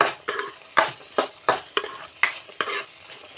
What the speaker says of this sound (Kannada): ನೋಡಿ, ಈ ಥರ ಫ್ರೈ ಮಾಡ್ಕೊತಾ ಇದ್ದೀನಿ.